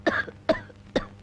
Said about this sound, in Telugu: ఈ దగ్గుతో రాత్రులు నిద్ర పట్టడం లేదు